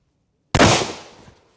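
A single loud gunshot from a Sagittaire One shotgun firing a Brenneke slug cracks out after silence, then its report decays quickly over about a second.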